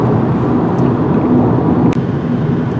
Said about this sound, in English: In the sport mode, you got that nice fake exhaust sound coming in the cabin